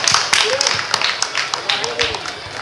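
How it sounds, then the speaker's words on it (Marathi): Audience applause at the Kalapini year-end celebration of 2024, a stage event: a dense, steady patter of many hands clapping throughout, with some voices mixed in. "गडसिंग सरांसाठी सुद्धा जोरदार टाळ्या वाजून आपण त्यांचं अभिनंदन करूया"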